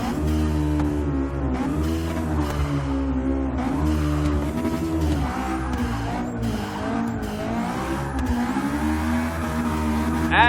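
A turbocharged Honda S2000 race build in the Forza 6 video game accelerates hard, its engine rising and dropping through repeated gear changes with a loud close exhaust note and some tire squeal, with no voices over it.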